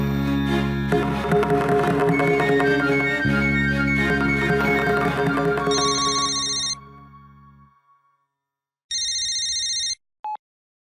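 A telephone rings in two short electronic bursts after loud dramatic music fades to silence, the first ring partly overlapping the tail of the music and a brief blip following the second.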